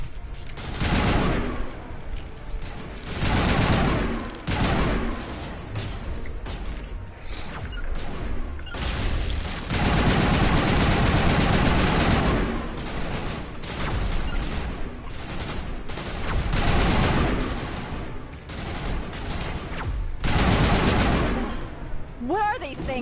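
Sniper rifle gunfire in a video game: loud, closely spaced shots and bursts fill the stretch, near and harsh, with voices talking over parts of it.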